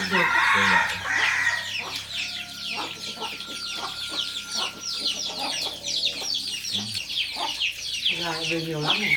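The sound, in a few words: chickens clucking and rooster crowing on farm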